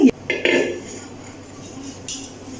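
Clay cooking pots clink and knock together as they are handled, a few short bright taps near and clear with a faint scrape between, no voices over them.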